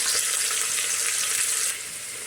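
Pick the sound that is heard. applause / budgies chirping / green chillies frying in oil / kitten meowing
green chillies frying in oil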